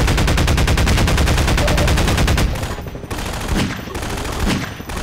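Rapid automatic gunfire in Half-Life 2: Episode Two, a loud, fast, evenly spaced burst for about two and a half seconds, then stopping, followed by quieter game noise.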